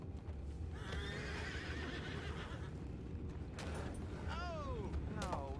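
Horses in Red Dead Redemption 2 whinny and neigh several times over a steady bed of hooves clopping and creaking tack, with a voice faintly present in the mix.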